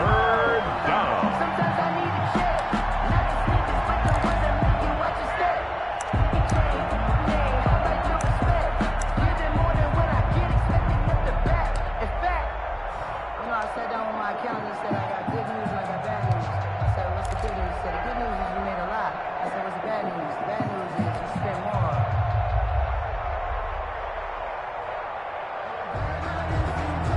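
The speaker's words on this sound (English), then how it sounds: "the crowd getting into it as we come up on a big 3rd down" Stadium crowd in an American football video game roars steadily ahead of a big third down, a broad sustained wash of cheering that swells and dips slightly under continuous play-by-play commentary.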